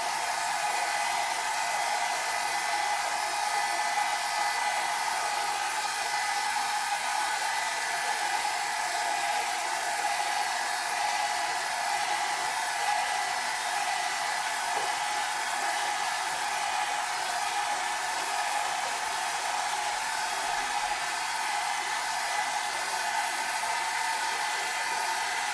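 A hair dryer blows steadily on alcohol inks, a loud, close, continuous airy whoosh that holds unchanged throughout with no talk.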